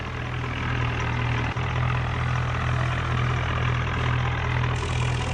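Sawraj 963 tractor hauling a trolley in a video game, its engine droning steadily and loudly with a low, even rumble and a brief dip partway through, no voices over it.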